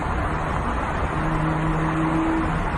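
Toyota Supra with a 2JZ engine doing a burnout, a loud, sustained engine roar mixed with rough tire noise, steady and close throughout, with no talking.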